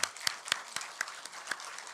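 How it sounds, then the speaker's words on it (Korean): A church congregation claps in blessing for newly appointed honorary deaconesses during an ordination service, soft steady clapping from a group with a few sharper strikes standing out, heard at a distance and fairly faint. "우리 축복의 박수 하십시다."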